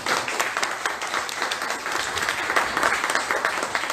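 A church congregation breaks into sustained applause for God, a dense, steady wash of many hands clapping at close to moderate distance with no talk over it.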